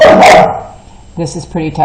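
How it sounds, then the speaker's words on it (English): A dog barks sharply once, loud and close, during an indoor craft session, and then a person speaks over the quieter room. "Sorry for the dog barking."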